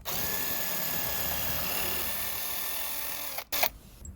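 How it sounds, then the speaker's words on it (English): A power driver pre-drills a hole into a wooden log for a wooden play centre swing set, a steady whirring drill tone running for about three seconds before stopping with a short clunk. "I'm going to go ahead and pre-drill a hole using my driver"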